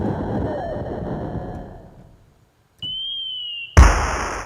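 A firework's rumbling roar fades into silence, then a thin steady whistle rings before a sudden loud blast cuts in.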